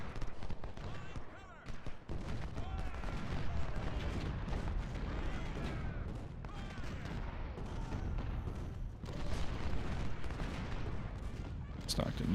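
Civil War troops fire muskets and artillery in Ultimate General: Civil War, a dense, continuous rumble of crackling volleys and booming cannon with scattered sharper reports, no quiet gaps.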